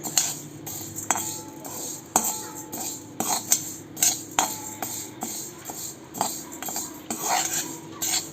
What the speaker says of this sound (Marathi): आता आपण वन थर्ड कप मुगाची डाळ भाजून घेऊया